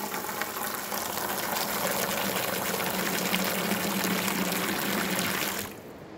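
An automatic water dosing unit pours water into a Collomix Duomix concrete mixer in a loud, steady gushing rush that cuts off abruptly near the end.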